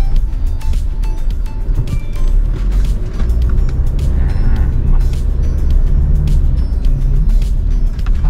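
A 2016 Mitsubishi Pajero Sport fitted with Profender shocks driving at high speed, a loud, steady road and engine roar with wind and tire noise sustained throughout, no voices.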